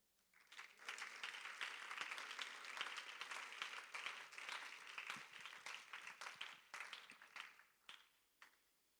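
Church congregation clapping in praise during a Spanish-language sermon, a steady crackling burst of many hands that swells quickly, holds for several seconds and then thins into a few scattered claps; faint and somewhat distant.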